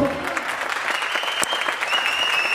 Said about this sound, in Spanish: Su aplauso